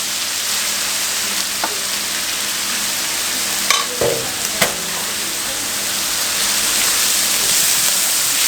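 Beef liver fries in oil, a loud, dense, continuous sizzle close by, broken by a few clinks of a stirring utensil partway through, with no talking.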